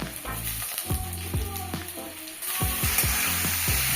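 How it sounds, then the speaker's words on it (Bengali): Eggplant fries in a hot pan with a continuous close sizzle that swells louder midway, while a spatula knocks and scrapes against the metal in repeated strokes. "বেগুনটা কিছুক্ষণ ভেজে নেব।"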